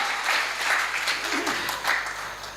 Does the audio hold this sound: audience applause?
yes